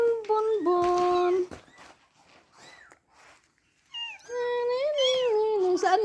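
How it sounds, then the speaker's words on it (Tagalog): Five-day-old kittens mew in thin, high cries, a burst of repeated meows, a quiet pause with faint rustling, then more insistent overlapping mewing up close. "Ito yung mga kuting na inabandona ng nanay."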